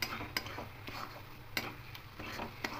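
Minced loitta (Bombay duck) fish being stirred in a wok with a metal spatula, a few sharp scraping clicks over a soft sizzle, quiet and close.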